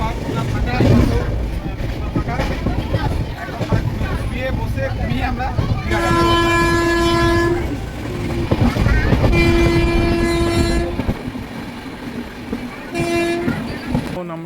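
Passenger train interior while riding, a steady loud rumble of the moving carriage with several long horn blasts sounding over it, and voices in the background.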